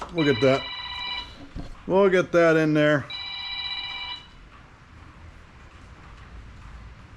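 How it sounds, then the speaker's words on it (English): A telephone rings in short bursts at the start and again after a few seconds while someone talks between the rings during brake and suspension work on a 1968 GMC C1500 pickup, then quiet room noise follows. "phone was ringing, sorry about that"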